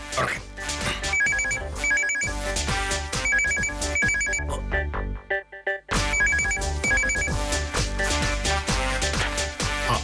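A loud electronic phone ringtone plays a repeating melodic pattern, dropping out briefly midway before resuming.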